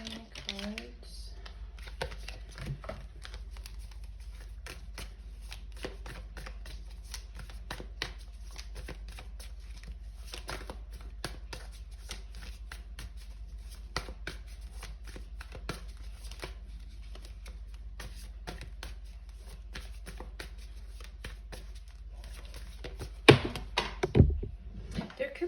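Tarot cards being shuffled in a steady, soft, close riffling and shuffling texture that continues for a long stretch, with a few louder handling clicks near the end.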